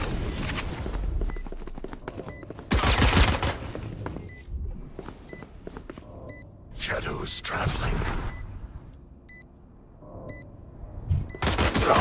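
Gunfire in the shooter game Valorant, several loud bursts of shots standing out over continuous game noise and ticking interface sounds, with a dense burst near the start and another at the end.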